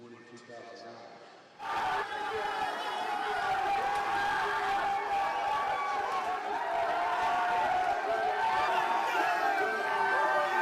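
A team celebrates in the locker room after UNC's April 2017 NCAA championship win, a loud crowd roar of cheering and shouting voices that erupts suddenly after a quieter moment and stays sustained.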